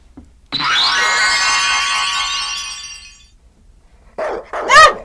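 A dog lets out a long, drawn-out howling whine, goes quiet, then gives two sharp, loud barks close by.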